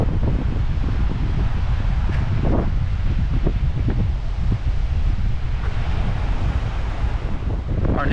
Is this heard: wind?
yes